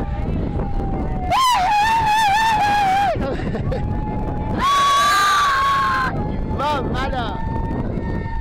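People at a bowling alley let out loud, drawn-out shouts in several long bursts, with wind buffeting the microphone and background chatter between the yells.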